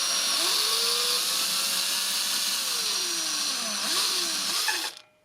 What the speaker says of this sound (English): I'll start off with the drill in reverse, which kind of acts as a pilot.